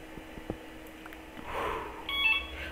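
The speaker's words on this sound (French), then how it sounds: "donc désolé c'était le téléphone." A telephone rings briefly near the end, a short burst of bright electronic tones rising above a quiet room background with a few soft knocks beforehand.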